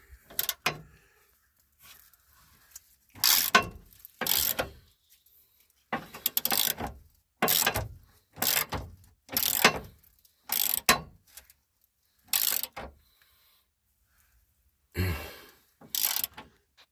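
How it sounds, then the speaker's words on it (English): A ratchet loosens frame bolts on a 2003 Ford F-150 during a hitch install, in bursts of rapid clicking separated by pauses, close and fairly loud, with no talking. "I got all the bolts pulled out and or loosened up"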